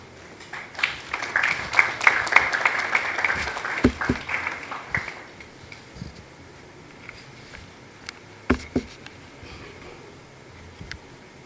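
Audience applause at a building-industry awards night, a dense round of clapping that swells early, then thins into scattered claps and fades to near quiet by the end.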